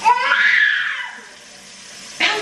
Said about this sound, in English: He has reached his screaming era